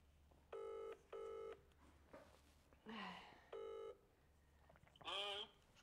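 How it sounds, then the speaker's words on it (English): Touch-tone telephone keypad beeps as a number is dialed to call a prize winner at a live competition draw, several distinct tone bursts in an irregular rhythm with brief talk between them. "Let's get Andrew's number and give him a call."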